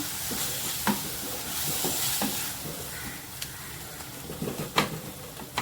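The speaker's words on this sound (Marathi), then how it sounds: "थोडं थोडं ते पण तेलावर छान परतून घ्यायचं आहे" Ground wet spice paste for a green pavta and potato curry sautéing in oil, a soft steady sizzle broken by intermittent spatula scrapes and taps against the pan, close by with no talk.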